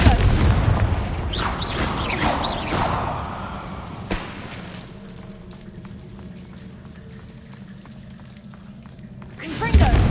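Fiery Confringo spell blasts in Hogwarts Legacy, a cluster of loud bursts and crackles early on, then a sharp single hit and a quieter rumbling tail, with a voice speaking over the opening.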